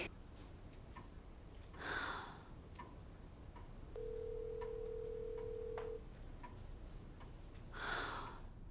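A telephone rings in two short bursts several seconds apart, with a steady electronic tone in between and faint ticking in the background.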